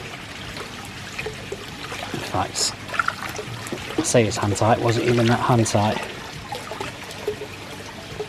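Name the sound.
water leaking from a loose solar water blade fountain fitting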